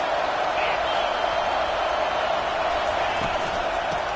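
Football stadium crowd at a Texas A&M game, a dense, steady roar of many voices filling the space, with a commentator talking over it.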